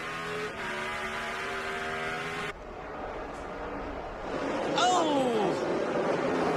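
A NASCAR Nextel Cup car at the 2007 Toyota Save Mart 350 road-course race, heard on board, drones loudly and then drops to a lower roar. Its pitch sweeps down as it brakes and downshifts, with commentators talking over it.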